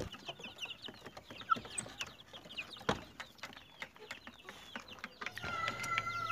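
Young chickens clucking in a crowded coop, a steady stream of soft, overlapping chirps and clucks at low level, with a brief sharper sound near the middle and busier calling toward the end.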